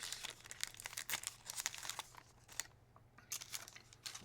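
A trading card pack wrapper is torn and crinkled open at close range, busy crackling and ripping bursts with brief pauses, quiet, no voices.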